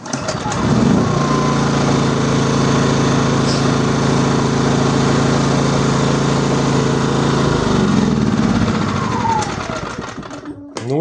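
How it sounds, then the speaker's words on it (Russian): A portable generator runs inside a 5×6 workshop, a loud, steady engine drone that holds constant for about eight seconds, then tapers off as the sound shifts. Someone talks over the engine noise throughout. "любой инструмент гораздо громче работает, а это генератор"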